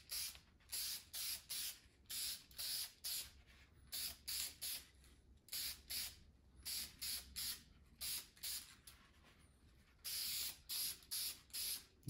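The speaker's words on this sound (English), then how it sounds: "Normally I would have a respirator on as I spray" Spray gun bursts lay finish coats onto a carved wooden pintail duck decoy, about twenty short hissing blasts in a regular rhythm with brief pauses between them.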